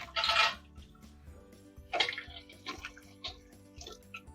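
Glass canning jars lowered back into a hot water bath canner while making peach scrap jelly, with quiet splashing and sloshing water, soft dripping and faint glassy knocks, fairly close.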